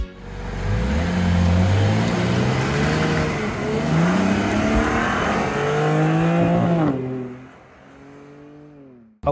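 A BMW G87 M2 sports car engine revs loudly up and down through several gear changes, its pitch climbing and falling, then drops away before a final burst.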